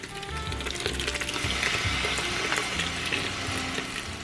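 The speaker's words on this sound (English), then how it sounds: "Then I'm just gonna pour in my beer." A whole can of beer poured into a cooking pot, with a steady rushing, fizzing splash of liquid that runs without a break for several seconds, close by.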